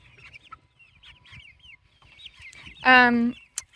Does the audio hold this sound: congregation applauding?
no